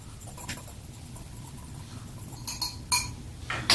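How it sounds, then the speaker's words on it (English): A dry spice mix of chili powder and black pepper whisked in a bowl, a soft low scraping with a few light clinks of the whisk against the bowl toward the end, close and brief. "I'm gonna whisk it together"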